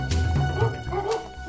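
Several Labradors yip and bark in a dense, busy cluster, close by and steady across the short stretch, with whimpering tones mixed among the barks and no talk over them.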